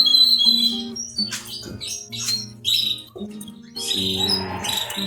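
Bright canary chirps and tweets in quick, irregular bursts, fairly close, with several canaries calling over one another.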